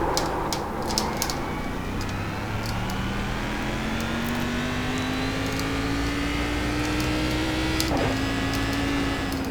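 A race car engine in the iRacing video game at the Nurburgring Grand Prix circuit drones steadily and slowly rises in pitch, with a brief shift near the end, loud and continuous throughout.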